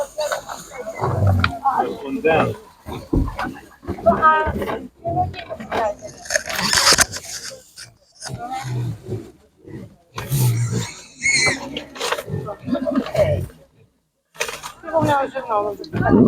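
Piglets at an animal market squeal and grunt in loud, repeated bursts close by, mixed with people talking among the pens.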